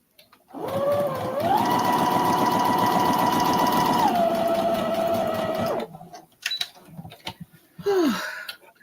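A sewing machine runs in one steady whirring stretch of about five seconds, its pitch rising then stepping down, loud and close, followed by a few scattered clicks and mechanical noises.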